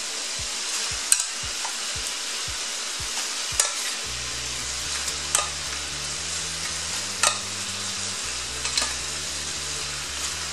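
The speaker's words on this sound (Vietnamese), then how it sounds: "Cho lửa to và đảo thịt lên đến khi thịt săn lại." Marinated duck meat is stir-fried in a pan over high heat, giving a continuous sizzle with repeated scraping and clinking stirs of the utensil against the pan, close and clear with no talking.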